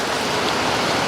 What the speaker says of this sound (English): Sorry about the rain, folks.